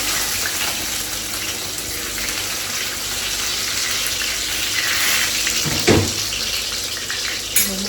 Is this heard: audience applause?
no